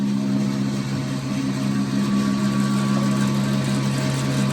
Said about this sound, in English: we're at the bandsaw here